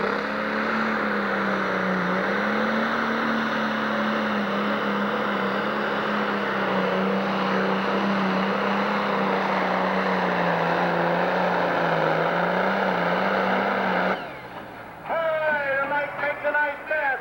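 A Pro Stock John Deere pulling tractor with a 619 replacement block roars steadily at full load for about fourteen seconds at a tractor pull in Sandwich, Illinois, then cuts off abruptly, leaving quieter crowd noise.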